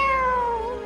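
A human voice imitates a cat, giving one drawn-out, falling meow that is clear and close, with nothing else audible.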